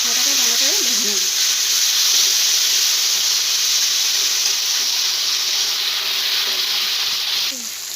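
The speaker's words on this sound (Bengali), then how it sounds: "মশলাটাকে ভালো করে ভেজে নেব।" A ground paste of cumin, ginger and dry and green chilies fries in a pan with a loud, continuous sizzle and hiss up close, with a voice heard briefly at the start.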